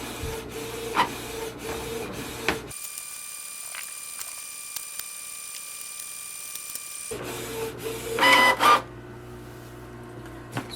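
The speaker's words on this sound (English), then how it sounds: "wait for the printer to do the print head alignment automatically" A Canon Pixma printer runs its automatic print head alignment, giving a steady mechanical hum with a quiet stretch in the middle, then feeding and printing again with brief rubbing and clicking bursts near the end.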